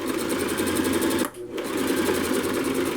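A sewing machine stitches seat upholstery in a fast, steady mechanical chatter, close and continuous, with a brief pause midway before running on.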